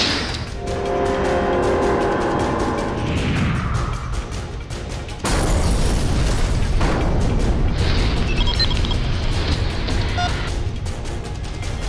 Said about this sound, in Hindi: कैप्टन ब्लेज, अल्फा मिसाइल तैयार? तैयार कैप्टन। फायर